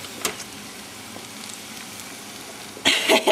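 Potatoes and onions frying in bacon fat, a low steady sizzle with soft stirring scrapes, rising to a louder crackling burst near the end.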